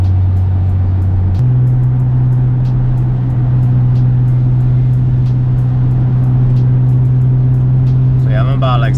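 Interior drone of a Lexus IS with aftermarket JDM OEM window visors cruising on a highway around 50 mph, a steady low engine and road hum that shifts slightly in pitch early on, continuous and fairly loud.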